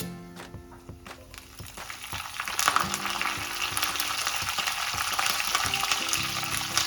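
Urad dal and curry leaves hit hot tempering oil for a curd rice tadka, crackling and sizzling loudly, with the sputter building after a few seconds and holding steady.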